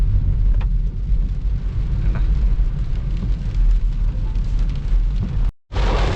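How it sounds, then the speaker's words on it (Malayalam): Heavy rain on a forest road near Gudalur on the way toward Masinagudi, a dense, loud, continuous wash of noise with a low rumble underneath that cuts out abruptly for a moment near the end, with no talking. "മഴ ഭയങ്കരമായിട്ട് കൂടിയിട്ടുണ്ട്"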